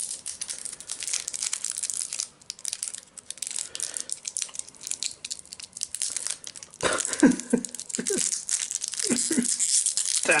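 The plastic wrapper of a UK 24-hour ration pack crinkles and crackles loudly and continuously up close as it is pulled and worked open with scissors, with sharper tearing bursts toward the end.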